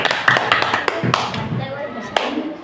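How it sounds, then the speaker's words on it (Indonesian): A classroom group claps for students, quick uneven hand claps and taps close by, mixed with people talking throughout. "Tepuk tangan untuk kelompok 1"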